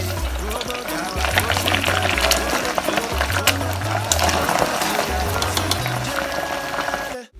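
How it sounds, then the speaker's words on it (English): Goat meat frying in hot oil, a continuous close sizzle and crackle with bubbling spatter that holds steady for several seconds before cutting off abruptly. "I'll repeat the process until everything is nicely fried up"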